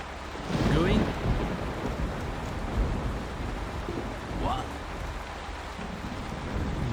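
Rain falls steadily in Commandos 3, with a rolling thunder rumble near the start and another fainter one midway, all heard without speech.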